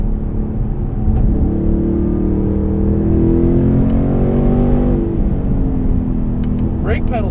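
A 670 hp 2016 Roush Stage 3 Mustang engine revs hard, its pitch climbing steadily for several seconds before dropping off. The tone is loud and close, heard from inside the car.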